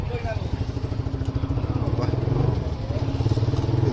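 A motorcycle engine, recently opened up and repaired, runs nearby with a fast, even throbbing beat that holds steady throughout.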